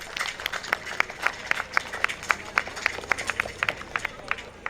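A crowd at an outdoor Ramleela festival in Trinidad applauding the mayor of Siparia, with scattered sharp claps over a steady noisy background, moderately distant.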